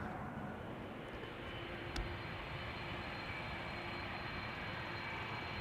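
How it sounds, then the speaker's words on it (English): A KLM Airbus A330-200 jet departs Amsterdam Schiphol for Kigali, a steady broad roar of engines at moderate distance under light breeze, holding constant throughout with no talk. "this is KLM flight 535 to Kigali. A330-200"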